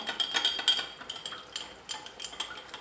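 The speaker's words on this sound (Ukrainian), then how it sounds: "В цій водичці ми розводимо чайну ложечку крохмалу картопляного. Перемішуємо." A teaspoon clinks briskly against a glass of warm water while potato starch is stirred in, a quick run of close, bright metallic taps and scrapes.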